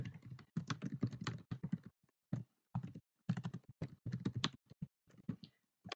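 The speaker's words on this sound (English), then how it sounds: "So I'm going to just type in here, it's like magic." Computer keyboard typing in quick irregular bursts of clicks with short pauses, close and fairly quiet, no talking.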